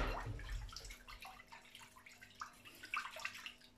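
Tap water runs softly over about 100 to 150 grams of rice being washed in a home kitchen, a faint, steady trickle with small splashing bursts and no talking.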